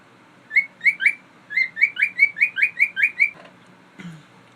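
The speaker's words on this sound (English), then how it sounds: "my birds are getting kind of noisy" Small pet birds chirp indoors in quick repeated bright bursts, about a dozen high tweets in a steady run, then a brief rustle; close and fairly loud.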